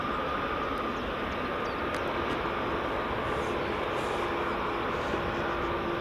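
A WestJet Boeing 737 MAX departing Edinburgh for Toronto, a dense, steady jet roar with a broad hiss and faint tonal whine, loud and continuous throughout with no talk.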